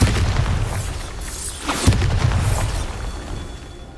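A Bombarda spell explosion in a Harry Potter video game, heard as a loud continuous booming rumble with crackling bursts and a stronger blast midway, then fading slightly.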